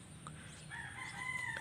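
A Texas rooster crowing faintly at a distance on a small poultry yard, one drawn-out crow over low background noise.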